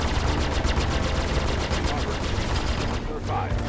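Rapid automatic gunfire from Sabre and Super Hornet spaceships in a space combat video game rattles loud and continuous, dense and close, with a brief dip near the end.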